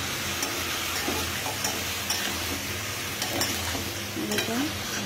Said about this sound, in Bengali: আলু বসিয়ে দিয়েছি, আলুটা একটু লাল লাল করে ভেজে নিচ্ছি।